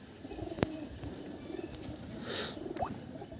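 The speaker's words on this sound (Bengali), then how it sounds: "দাদার পায়রাগুলো কিন্তু খুব অ্যাক্টিভ পায়রা আছে এবং সব ফ্রেশ পায়রা আছে পুরো" Pigeons in a loft of desi birds give soft, low cooing calls, a few murmured coos close by with a brief chirp and faint background rustle.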